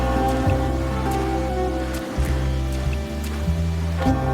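Rain falls in the video game Wuthering Waves, a steady wash of drops in a gently swelling, sustained bed with layered tones running beneath it, no voices.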